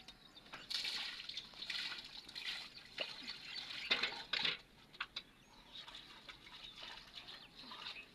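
Water poured from a bowl splashes and trickles over dishes being washed outdoors, in uneven gushes and dribbles with occasional light clinks, fairly faint and close.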